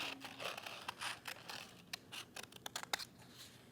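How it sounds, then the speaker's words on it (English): Scissors snip long, skinny paper strips for a bookworm bookmark, a series of close, crisp cutting strokes that speed up toward the end, with no speech. "I'm going to cut some long, skinny strips, and maybe some that are a little fatter too"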